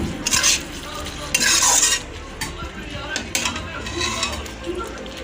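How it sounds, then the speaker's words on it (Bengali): Soybean chili in a pan with a little water, stirred with a utensil; repeated scraping bursts over a soft bubbling sizzle, close and fairly loud. "একটুখানি জল দিয়ে এটাকে একটু 2 মিনিট ফুটিয়ে নেব"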